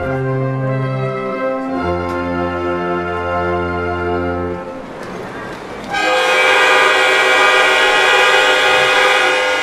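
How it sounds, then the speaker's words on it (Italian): Car horns of historic collector cars sound together in a concert-style performance, sustained harmonic blasts in loud overlapping chords that pause briefly, then return fuller and louder near the end. "un'esibizione musicale fatta con i clacson delle auto di importanza storica e collezionistica dei partecipanti"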